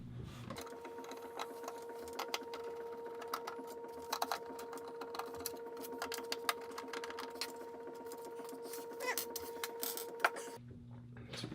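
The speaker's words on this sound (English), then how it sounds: "So we'll just unscrew these 4 screws in the back." A cordless or electric screwdriver whirs steadily at close range, unscrewing four screws from the back of a PC power supply, an EVGA 650W unit swap, running almost continuously with small clicks before stopping abruptly near the end.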